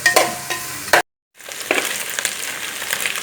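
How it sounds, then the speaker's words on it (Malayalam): Beef pieces, already partly cooked, are stir-fried in a hot pan with steady sizzling and scraping stirs, broken by a brief silent gap before the frying resumes, close and moderately loud. "നമ്മുടെ ബീഫ് വറുത്തോണ്ടിരിക്കുകയാണ് വറുത്ത് മുറുകി വന്നുകൊണ്ടിരിക്കുകയാണ്"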